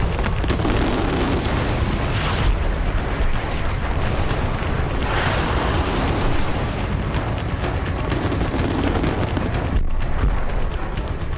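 Effect for matter and antimatter annihilating in a flash of energy, a loud sustained rumbling blast like a continuous explosion roar, dense and steady with no talking.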